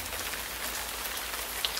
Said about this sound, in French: Sous une pluie battante